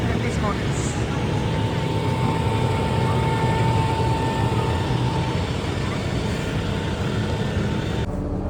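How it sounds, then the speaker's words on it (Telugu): The Machu Picchu train in Peru rumbles loudly and continuously, with a low mechanical drone and a faint steady whine. Voices are mixed into the noise. "This is our train for today."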